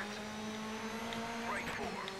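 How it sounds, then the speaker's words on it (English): Loud rally car engine in the Dirt 3 racing game, a steady droning tone holding throughout with rising pitch sweeps as it revs, close and prominent. "Oh, the car's loud."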